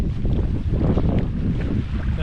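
Wind gusts by a lake in the evening, a dense, steady rushing that buffets the microphone, loud and close.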